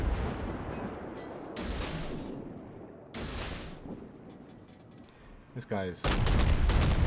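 Destroyer Mahan's deck guns fire in World of Warships, heavy booming salvos arriving in a few loud bursts separated by quieter rumbling stretches, with a brief voice in between.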